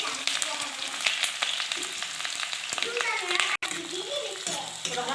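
Chopped onions frying in hot oil in a kadai, a steady bright sizzle running throughout with occasional stirring clatter, while children's voices chatter in the background.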